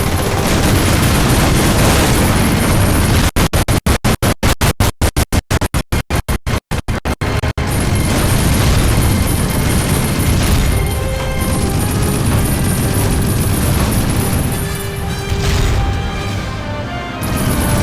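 Heavy tank cannon blasts and battle din from Medal of Honor Rising Sun fill the whole stretch with loud, dense rumbling explosions, interrupted midway by a run of rapid stuttering dropouts.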